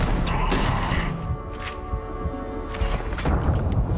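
Shotgun blasts go off in the Starfield video game, several loud booming shots in quick bursts with short gaps between them, heard alone without talk.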